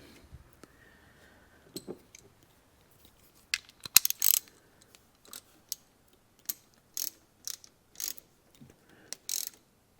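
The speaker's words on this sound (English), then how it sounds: "as long as our spark plug wrench can get down into it" Clicks and ratcheting taps of a spark plug wrench working the plug out of a 1986 Club Car DS gas golf cart engine, a string of brief, separate metallic bursts, close and fairly quiet, with no talk.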